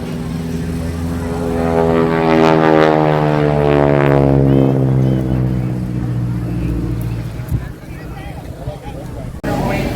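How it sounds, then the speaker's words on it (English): A helicopter giving rides at an outdoor festival, the Black Bear Festival in Plymouth, North Carolina, drones loudly and steadily nearby, its engine pitch sweeping and shifting as it moves, while crowd noise carries on in the background. "We're going to walk on over to where the helicopter rides are going on."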